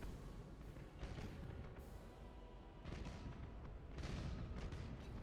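Spaceship guns fire during a Battlefleet Gothic: Armada space battle, a steady low rumble of distant booming salvos that swell and repeat every second or so, with no talk over them.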